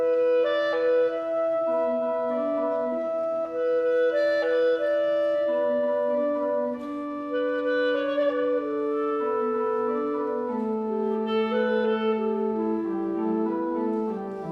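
Clarinet and organ playing an Andante con moto together in a worship setting, a sustained melodic line over held chords, moderately soft and steady, with no talking.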